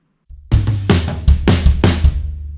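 A fast drum fill into a pop chorus, kick and snare groove giving way to tom hits with a high tom featured, several loud close strikes in quick succession with crashing cymbal wash, no voices.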